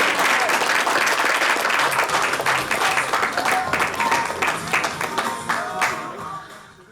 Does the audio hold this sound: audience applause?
yes